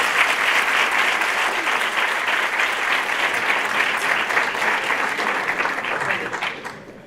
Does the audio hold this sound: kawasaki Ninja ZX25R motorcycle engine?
no